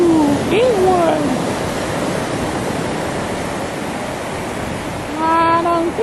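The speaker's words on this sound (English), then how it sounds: "We're waiting for the waves." Ocean waves wash onto a beach in a steady, loud rush of surf, with a few brief high bird-like calls at the start and end.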